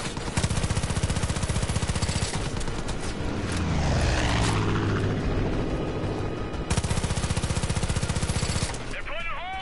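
Gunfire and an attacking aircraft in the Far Cry 5 video game: dense bursts of automatic shooting frame a loud roaring swoop in the middle, with a falling whine near the end.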